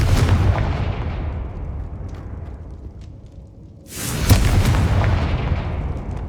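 Confringo fire spells explode in the Hogwarts Legacy video game, two loud booming blasts with a crackling roar, one at the start and another midway, each decaying into a rumbling tail; nobody speaks.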